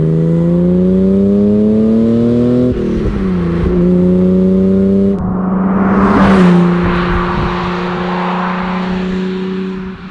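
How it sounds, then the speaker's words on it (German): A 1980 BMW M1's turbocharged six-cylinder engine revs and climbs through the gears, a loud close-up rising drone with a brief drop at each shift and a rougher roar near the end. "Ist ja wie gesagt ein Sechszylindermotor mit richtig Dampf und Turbo aufgeladen."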